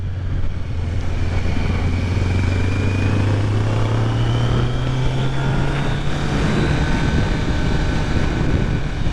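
2023 Kawasaki Z900 motorcycle engine droning steadily at close range while riding, its pitch sliding as the rider shifts into second gear and takes a corner.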